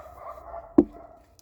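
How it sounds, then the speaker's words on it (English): A single sharp dog bark rings out in a quiet living room, one brief loud burst against a low background murmur, with no other barks following. "Sorry about all the barking and the noise"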